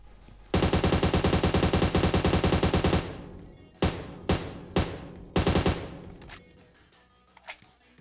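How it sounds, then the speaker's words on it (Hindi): Rapid bursts of automatic gunfire in PUBG Mobile, one long sustained volley followed by several shorter bursts, loud and close, with a few faint distant shots after. "ये वाला बंदा जो दूर से गोली चला रहा है"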